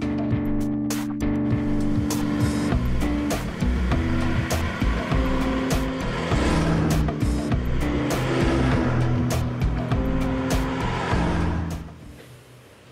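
An Audi five-cylinder car engine pulls steadily while driving, with a strong, harmonic drone that rises and falls as the revs change, close and loud, then fades away at the very end.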